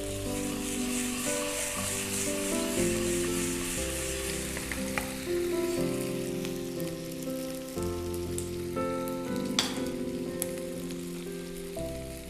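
Chicken wings frying in a pan with brown sugar caramelizing into a glaze, a steady close sizzle running throughout with music playing over it.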